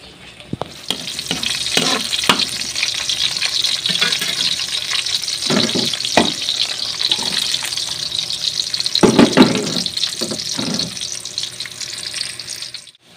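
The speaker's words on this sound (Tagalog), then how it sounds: "gigisahin na natin para malagyan na ng sa bawang sibuyas lang" Garlic and onion sauté in hot oil for chicken adobo, with a steady bright sizzle broken by repeated scraping and clacking stirs and brief bursts of louder frying, all close and without talk.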